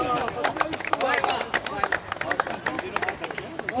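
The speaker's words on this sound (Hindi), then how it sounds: "जोरदार तालियों के साथ" A poetry recital audience breaks into dense, loud applause, rapid claps filling the room with a murmur of voices underneath.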